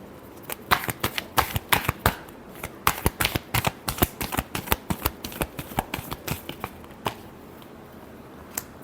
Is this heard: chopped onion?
no